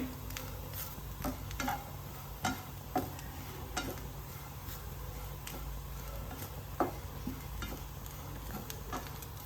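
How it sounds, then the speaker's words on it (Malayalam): Grated coconut roasting in a pan, a soft continuous sizzle broken by scattered light clicks and scrapes of stirring, fairly faint and without talk. "ഇത് നല്ല മൂക്കണ തേങ്ങ നല്ല വറുത്ത് വരണം"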